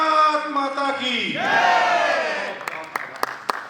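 A large crowd at a Hindi poetry gathering shouts a loud, drawn-out unison response to a patriotic chant, then claps in scattered bursts.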